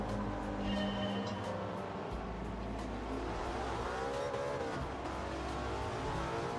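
Mercedes race car engines in Gran Turismo 7 at a race start, a dense, loud engine roar with revving held steady, then rising and shifting pitch as the cars pull away.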